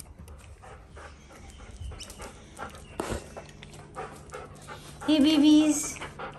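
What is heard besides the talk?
excited puppies panting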